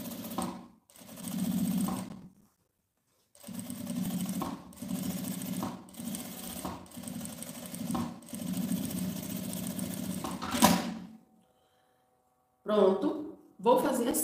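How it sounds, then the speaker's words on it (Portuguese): A sewing machine stitches along the edge of fabric for a small zippered pouch, loud and close in a series of whirring runs broken by brief stops, with a voice speaking near the end. "E agora uma costurinha bem na beiradinha,"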